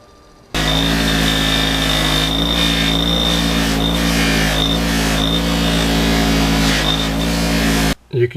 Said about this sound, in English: I want to run all this hardware on the buffing wheel, clean it all up as I put it back together